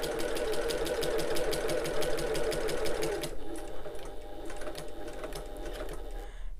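A sewing machine runs fast and steadily, stitching along the bottom edge of a fabric wallet, then stops abruptly about halfway through, leaving a quiet mechanical tail.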